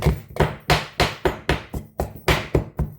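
Puttu flour mixture being pounded, a run of about ten sharp, regular thuds with short ringing decays, close and fairly loud with no talking over them.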